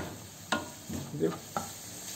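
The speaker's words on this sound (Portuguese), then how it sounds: "já refoguei aqui, tá refogado" Food with tomato sautéing in a pan gives a soft background sizzle, broken by a few scraping stirs of a utensil against the pan.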